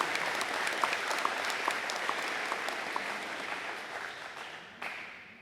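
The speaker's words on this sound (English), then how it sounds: "One more time, a big round of applause for Antonio." Audience applause at a high school college signing event for a student athlete, a steady dense wash of many hands clapping that holds loud and then tapers off near the end, with no talking over it.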